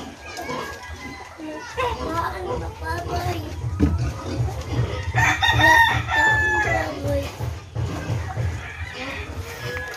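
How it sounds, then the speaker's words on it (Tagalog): Young roosters about a month old crow in a backyard poultry pen, their cries rising several times over a busy mix of children's voices and clucking hens. "Tumitik-tilaok na yan mga kabagis yung mga lalaki dyan. Maingay na."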